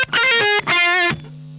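An electric guitar plays two short sustained phrases with a bit of reverb, the notes wavering slightly before a low tone rings on and fades.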